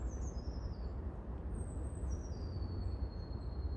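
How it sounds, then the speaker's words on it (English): Songbirds high in a woodland canopy give thin, drawn-out descending whistles, two or three separate calls that sound fairly distant over a steady low outdoor rumble. "You can hear the bird song more clearly"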